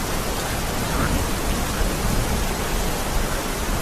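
Rain falls in a steady, dense hiss that never lets up, a full, even wash of sound heard alone with no voices.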